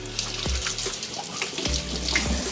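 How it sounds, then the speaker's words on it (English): Running tap water splashes over hands being rinsed at a kitchen sink while pizza dough is being made, a close steady gush with brief interruptions and no talking. "Okay, just rinse my hands."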